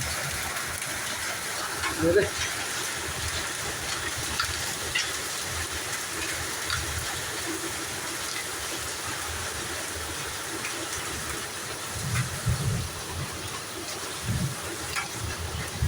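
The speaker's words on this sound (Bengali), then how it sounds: "এই যে শিলাবৃষ্টি দেখছেন" A hailstorm gives a dense, continuous roar of hailstones pelting down, loud and unbroken throughout, with a voice talking over it at times.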